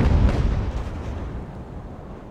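Naval cannon fire in the age-of-sail game Ultimate Admiral: Age of Sail, a heavy, booming broadside with a deep low-end thump up front, then a long rumbling decay that fades slowly.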